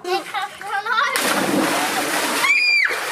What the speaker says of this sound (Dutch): Oh, lekker even een koude douche genomen, altijd lekker.